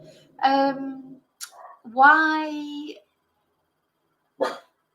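A dog gives two drawn-out, whining barks close by, with a short sharp yelp near the end and quiet gaps between them.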